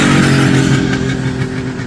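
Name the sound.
Kawasaki H1 triple motorcycle engine revving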